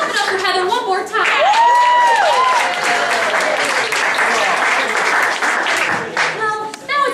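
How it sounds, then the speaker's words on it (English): A live show audience applauds and cheers loudly for a prize winner, a dense wash of clapping with whoops and shouted voices that rise and hold steady for several seconds before tapering off near the end. "Let's clap it up for Heather one more time."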